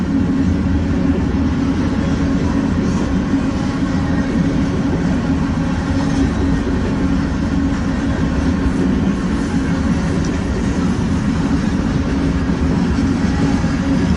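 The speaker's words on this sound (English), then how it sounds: "This train has had some really cool fallen flags and some really cool old cars." A freight train rolls steadily through Fremont, Nebraska in freezing weather, a continuous loud rumble and rattle of passing cars with faint clickety-clack, no voices.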